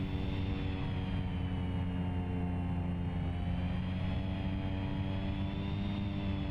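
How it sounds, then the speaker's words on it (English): Steady drone of a light aircraft's engine and propeller as it back-taxis along a small mountain airport's single runway in the X-Plane 11 flight simulator, constant and close with a slight wavering pitch, no talking. "So right now we're just back taxiing the one and only main runway"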